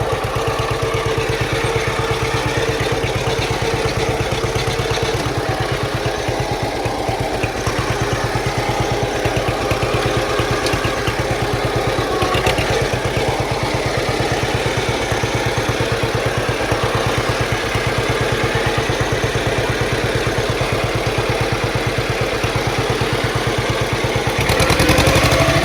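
A John Deere Model H tractor engine runs steadily at close range, a loud continuous low-pitched chugging with a rhythmic pulse and mechanical clatter, holding even for the whole stretch with no talking.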